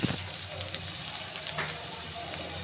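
Chopped onion fries in hot oil in a wok for a fish curry with potato and tomato, producing a gentle continuous sizzle and crackle with small pops scattered throughout, fairly quiet and close.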